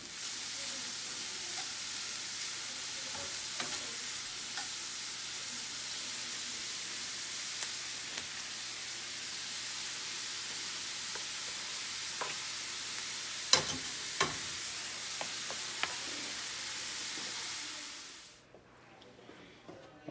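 Sausage frying in a pan with onion and peppers gives a steady, loud hiss and crackle with occasional sharper pops, cut off abruptly near the end.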